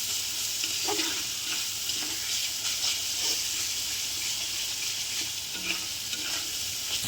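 Spice masala frying in oil for a whole lote fish kalia curry, a constant hissing sizzle with soft intermittent scrapes of stirring, close and even in level.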